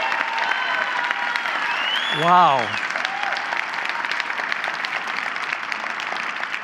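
Sustained applause from a live audience for the presenters at a fast-pitch event, a dense steady wash of clapping throughout, with a short spoken exclamation and a brief rising whistle-like tone partway through.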